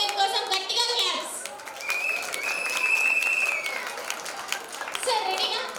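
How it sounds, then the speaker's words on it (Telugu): An audience claps loudly at a sangeeth celebration to welcome a dance performance, sustained applause with scattered children's voices and chatter over it, swelling and easing across several seconds. "గట్టిగా చప్పట్లతో వెల్కమ్ చెప్పాలి"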